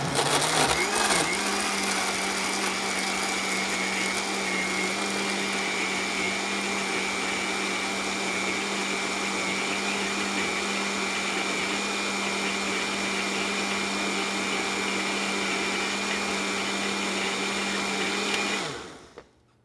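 A blender whirs continuously on its smoothie setting, blending a green smoothie drink at a steady loud pitch for nearly twenty seconds before abruptly cutting off.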